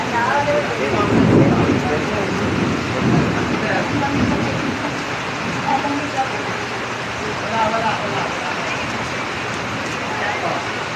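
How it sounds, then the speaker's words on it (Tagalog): Heavy rain pours down in a dense, constant hiss with low rumbling beneath, and voices talk faintly under the downpour. "So, ang lakas ng ulan."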